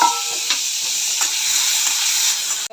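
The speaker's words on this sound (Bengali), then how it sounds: "ছোলা দিয়ে দিব তেলের ভিতরে ভাজার জন্য।" Chickpeas fry in hot oil with a steady, loud sizzling hiss, a few stirring scrapes breaking in briefly before it cuts off at the end.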